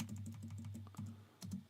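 Typing on a computer keyboard during a live wrestling watch-along, a quick steady run of close, soft key clicks with a brief pause and then a couple of firmer taps.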